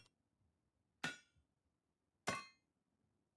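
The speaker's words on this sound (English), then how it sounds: "we've got a bit of hammering to do first" Two sharp, ringing hammer strikes in the medieval building game Medieval Machines Builder, spaced about a second apart, each loud and metallic with a brief decaying ring over near silence.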